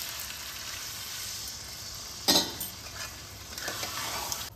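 Hot water hits a pan of fried jackfruit and potato with a sudden sharp hiss, then steady sizzling and bubbling continues close by amid light stirring.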